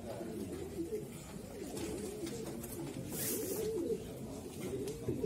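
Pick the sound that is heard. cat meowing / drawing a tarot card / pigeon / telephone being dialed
pigeon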